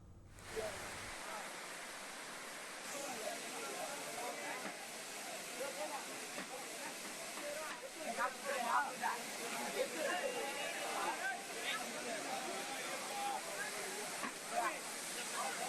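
Courtallam waterfall in Tenkasi, crowded with Ayyappa pilgrims, gives off a continuous rushing roar of falling water, with scattered crowd voices in the background.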